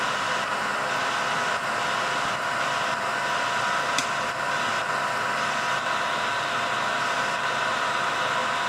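A dryer on a custom touch-screen control system runs with a steady, even whoosh of airflow and a low motor hum, continuous and close, with no voices.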